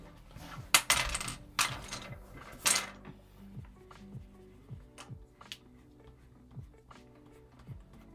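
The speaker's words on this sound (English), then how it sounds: "Everything's just falling on the floor around me." Pencils clatter and tap onto a floor in a scattered series of sharp hits, busiest early on, then sparser rattles and bounces.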